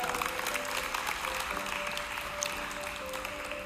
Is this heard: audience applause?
yes